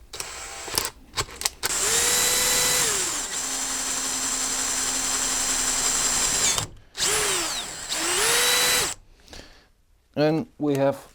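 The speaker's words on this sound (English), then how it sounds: "I'm gonna use a drill" A power drill bores a hole while building a chicken coop, whirring steadily for several seconds with a pitch that rises and falls as it spins up and slows, in two long bursts separated by short gaps, with a person talking around them.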